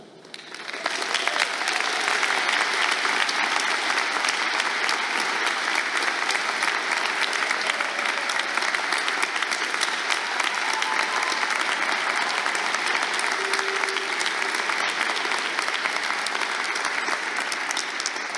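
An audience at a college awards ceremony gives sustained, steady applause for Sigma Xi honorees, a dense even wash of clapping from a large gathering that lasts throughout without a break.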